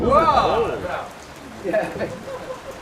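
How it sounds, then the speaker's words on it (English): Heavy rain pouring down in Venice, a steady wet hiss under someone talking. "It's not looking good. It's pissing down."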